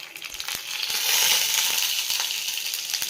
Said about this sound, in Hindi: ये तेल रे आमे दे देबा फुटुण